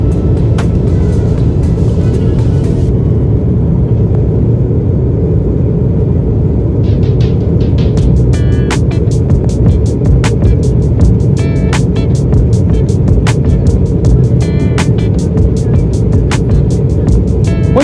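Steady jet engine roar inside the cabin of a JetBlue Embraer E190 climbing out of New York LaGuardia, a loud broadband rumble throughout, with intermittent sharp clicks and rattles over it and no talking.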